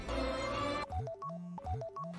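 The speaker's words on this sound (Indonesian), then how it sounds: "Telepon berdering, terus berdering, dia abaikan" A telephone in a Kannada-language film gives short repeated electronic tones in two bursts after a loud burst of music, clear and close with no talk.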